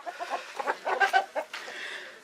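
Chickens cluck in a pen with short, uneven bursts of clucks and squawks close by, a few louder calls standing out against a quiet background.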